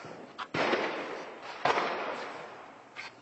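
An ammunition depot blows up in Afrin in a chain of heavy blasts: three sharp booms, each trailing into a long rumbling roar. The blasts sound distant and carry on with no voices.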